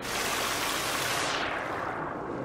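Flowing water in the survival game The Forest, a loud, steady broadband rush like a stream or waterfall that dulls partway through as its hiss softens, with no speech.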